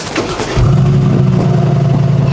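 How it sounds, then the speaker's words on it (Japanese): A matte-finished, blacked-out Mercedes G63 AMG fires up with a sharp start, then settles into a loud, steady, close-range engine rumble with a light rev, no voices. "では少しねエンジンの方もかけてみたいと思います"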